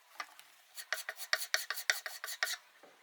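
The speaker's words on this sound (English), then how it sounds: "all we gotta do sand it off" Rhythmic rasping strokes of sandpaper on dried wood filler on a wooden outdoor patio table, about a dozen quick close scrapes in a steady back-and-forth pattern with no voices.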